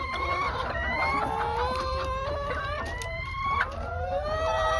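Laying hens on an egg farm cluck and squawk in overlapping calls, several birds close by, with rising and falling cries over a constant low background hum.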